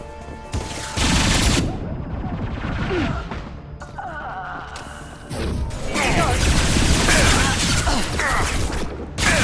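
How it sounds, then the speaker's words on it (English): Heavy weapon fire in Mass Effect 2 comes as loud, crashing bursts of rapid shots and impacts. It stops briefly, then resumes in a second sustained barrage with voices mixed in. "Heavy weapon, get down!"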